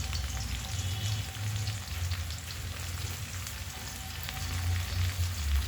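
Onion, garlic and green chili frying in a pan of oil, a continuous close sizzle with fine crackling that swells slightly near the end, no talking.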